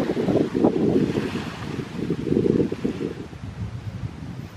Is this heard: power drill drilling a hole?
no